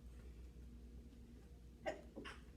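A single short sneeze, faint and somewhat distant, over a low steady hum, with a softer breathy sound just after.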